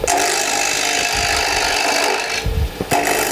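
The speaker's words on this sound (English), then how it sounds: "The faster you have the lathe going, the better the cut is going to be." Wooden spindle spinning on a lathe while a cutting tool shaves it, making a steady dense scraping hiss with rough chattering texture throughout and a brief break near the end. It is close and loud, and no voice is heard.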